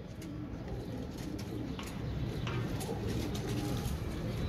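Pigeons of the Royal Teddy breed coo in a steady, continuous low murmur throughout, close and fairly loud, with faint chirps scattered above it.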